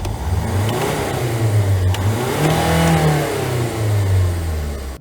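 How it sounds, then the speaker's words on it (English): A Mazda CX7 engine is revved twice by pressing the accelerator to the floor, each rev rising and falling clearly before it settles back toward a steady idle, close and loud without voices. "start the car and then to press the accelerator twice"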